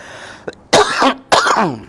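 Three sharp coughs: a small one, then two loud, rasping bursts separated by a short pause, close to the listener.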